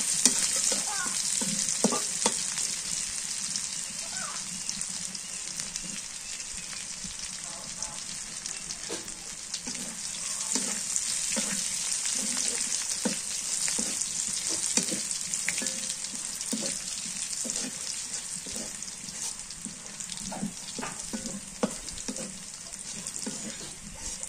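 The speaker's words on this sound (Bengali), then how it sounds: "রসুনটা একদম লাল লাল করে ভাজবো যাতে গ্রানটা সুন্দর আসে" Garlic fries in oil in a pan for a Bengali jute-leaf dish, giving a constant crackling sizzle with repeated scraping taps of stirring spread across the whole stretch, no voices.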